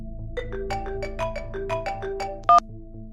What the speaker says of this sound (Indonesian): Siapa yang telepon?